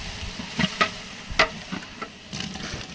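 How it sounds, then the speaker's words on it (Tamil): Chopped tomatoes sizzle in a biryani pot as a ladle stirs them, several sharp scraping clacks over a steady soft frying hiss, close by. "தக்காளி போட போறோம். தக்காளி தக்காளி கிண்டுங்க கிண்டுங்க."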